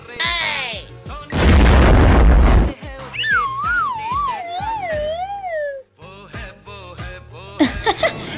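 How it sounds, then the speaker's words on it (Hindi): A Diwali firecracker goes off with one loud, roaring blast lasting over a second, followed by wavering whistle-like tones and lively voices. "इस दिवाली आप लोग भी पटाखे थोड़ा संभल कर फोड़ें।"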